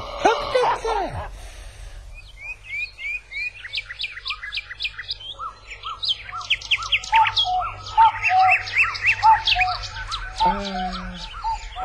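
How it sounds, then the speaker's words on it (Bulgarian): A cuckoo calls repeatedly in a rural outdoor setting, its clear two-note calls recurring amid other chirping birds, with a brief voice at the start and a steady low hum underneath. "Кукувицата дошла."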